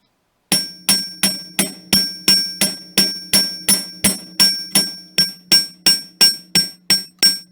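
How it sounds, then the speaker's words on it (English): Steady rhythmic hammer strikes on wire for an ammonite wire-wrapped pendant, about twenty bright ringing taps in a row, close and loud with no talking. "I'll just hammer this curve."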